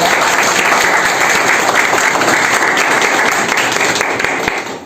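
Loud, dense applause from students of a defence academy, sustained at full strength for several seconds before it begins to tail off at the end.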